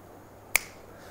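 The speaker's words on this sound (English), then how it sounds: "The finger snap." A single sharp finger snap rings out crisply in a quiet room, one brief bright click with a short fading tail and nothing else around it.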